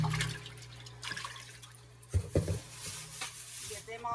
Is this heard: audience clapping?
no